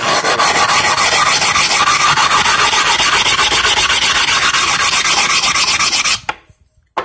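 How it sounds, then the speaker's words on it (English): A rubbing stone rasps steadily back and forth along a cut tile edge, loud and close, with fast even strokes for about six seconds before it stops abruptly. "you can tune that up a little bit with that rubbing stone, and you basically get a factory edge"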